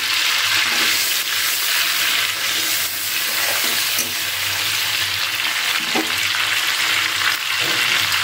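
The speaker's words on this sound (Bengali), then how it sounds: "এবার কড়াইতে তেল গরম আছে, কড়াইতে দিয়ে দিচ্ছি গোটা জিরে ফোড়ন" Whole cumin seeds and two bay leaves hit hot oil in a kadai for an unripe jackfruit and prawn curry, producing a loud, steady, close hissing sizzle with faint crackles and a few stirring clinks, without speech.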